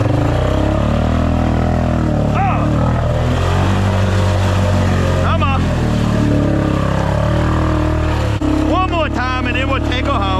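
Polaris four-wheeler engine running steadily at close range, a continuous loud low drone with some revving, with a person talking over it at times.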